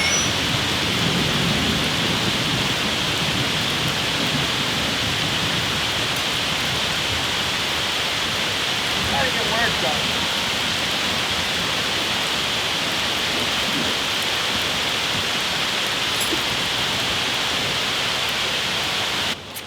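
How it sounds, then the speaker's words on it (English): Steady rain falls outdoors in a broad, constant hiss that fills the whole stretch, heard from under shelter during work on a 1964 VW Beetle, with a brief voice speaking over it near the middle. "Well, it's raining."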